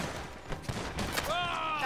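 In a Red Dead Online firefight, a shotgun blasts amid dense, loud gunfire, with sharp cracks scattered through the clip over a noisy game mix.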